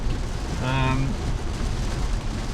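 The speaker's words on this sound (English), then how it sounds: "it was only a matter of time until the rain came, and boy has it come." Heavy rain drumming on a BMW i4 M50 electric car, heard from inside the cabin while driving on the M23 motorway in England, a loud steady hiss throughout with a short burst of voice partway through.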